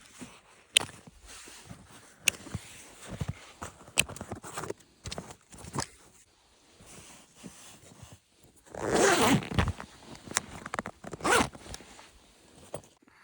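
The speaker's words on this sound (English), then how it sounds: "I broke the zipper just trying to get stuff into the bag." Zipper on a bug out bag, worked in a series of short, sharp rasping pulls with a longer, louder zip near the middle, close up and with no talking.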